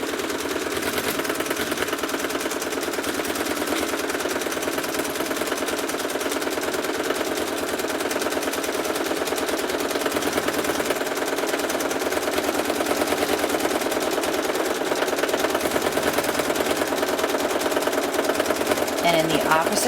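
A sewing machine stitches quilt fabric with a steady, continuous mechanical whir and rapid needle clatter, running close and fairly loud for the whole stretch in an even rhythm.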